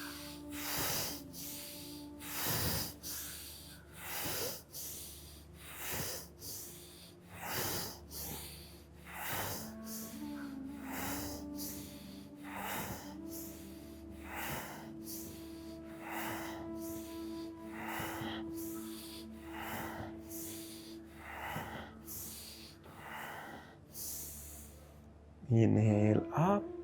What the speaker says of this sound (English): Let's do active inhale.